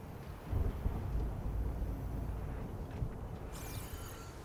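Deep rumbling thunder rolls through a stormy landscape in the video game Horizon Forbidden West, a low sustained growl over wind and rain that swells and fades, followed by a brief higher chime near the end.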